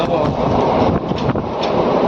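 A steady loud rumble and rattle heard from inside an empty passenger train coach while moving, continuous throughout the short stretch with brief clunks.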